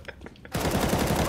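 A burst of automatic gunfire in the shooter game CS:GO erupts after a brief quiet moment, rapid loud shots rattling continuously to the end.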